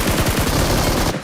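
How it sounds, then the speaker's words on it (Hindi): Rapid automatic gunfire in the BGMI battle royale game, a dense, loud burst of shots firing continuously for about a second. "मैंने इतनी गोली चलाई"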